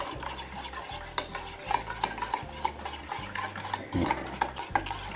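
Ingredients, with sugar just added, are stirred together in a pot. A spoon scrapes in regular, close strokes about twice a second, with light metallic clinks against the pot.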